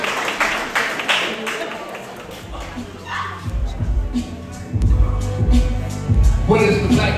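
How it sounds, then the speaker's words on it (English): An audience at a gala claps in scattered bursts that build and thicken toward the end, mixed with crowd noise and a voice speaking over it. "All the black kings clap it up for yourselves."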